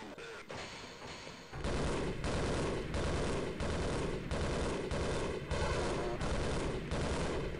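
Gunfire in the first-person shooter Half-Life: after a brief quieter lead-in, a sustained burst of rapid automatic shots and thumping impacts rolls on loud and close, with a voice speaking underneath.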